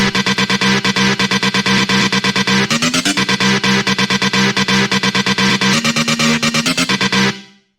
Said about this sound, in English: The first sound that we've got going on is the stabs